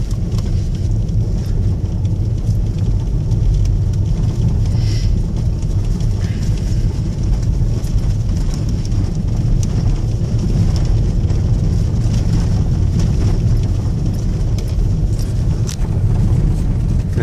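A car on Michelin Pilot tyres cornering on a mountain road, with a steady loud roar of engine and road noise throughout and no distinct tyre squeal standing out.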